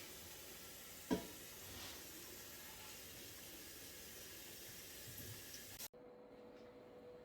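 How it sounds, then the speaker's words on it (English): Tap water runs steadily into a cooking pot in a home kitchen while green beans are being blanched for freezing, a continuous soft rushing hiss that stops abruptly near the end. "I'll start filling up another pot of water"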